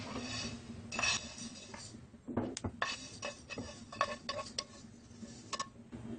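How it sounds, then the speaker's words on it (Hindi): Cooked carrots, cauliflower and turnips for a sweet-and-sour pickle being scooped from a pan into a pot, with scattered clinks and scrapes of a metal spoon against cookware, near and moderately loud, no talk. "अब हम इनको एक बर्तन में निकाल लेंगे।"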